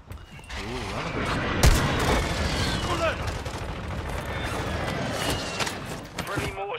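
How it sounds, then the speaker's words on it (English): Mortar strike in Call of Duty, a sharp loud blast followed by rolling gunfire and rumbling explosions, with players talking over the chaotic battle din. "Friendly mortar strike inbound."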